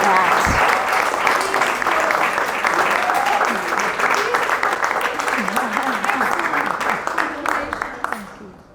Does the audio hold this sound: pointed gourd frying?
no